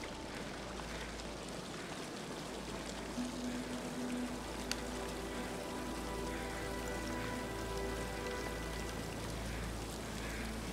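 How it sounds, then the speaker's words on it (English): Running water from a waterfall in the video game The Long Dark rushes as a steady, broad wash across the whole stretch, with faint tonal music layered underneath and no talking. "you start hearing the running water, and then you see the super cool waterfall"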